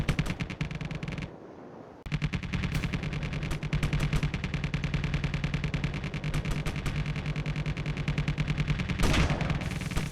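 Rapid automatic turret fire in the Space Engineers game: a loud, dense stream of shots that breaks off briefly near the start, then hammers on without pause for the rest of the stretch.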